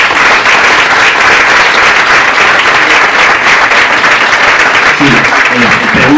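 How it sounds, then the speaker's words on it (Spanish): A loud, dense round of applause from an audience at the close of a talk on clinical genetics, sustained throughout, with a voice breaking in briefly near the end. "Un fuerte aplauso."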